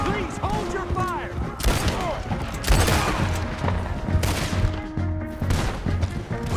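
Repeated gunfire crackles through a Red Dead Redemption 2 shootout, sharp shots and bursts scattered throughout amid shouting voices and game music.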